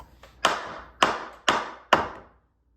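Four sharp metal-on-wood taps from a chisel used as a hammer, evenly spaced, each ringing briefly before fading, close up with no talking.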